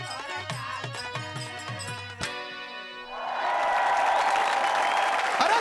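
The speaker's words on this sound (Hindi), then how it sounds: "जोरदार ताली" Loud audience applause and cheering rise and fill the second half at a Birha folk singing contest, following a stretch of harmonium-like music and singing.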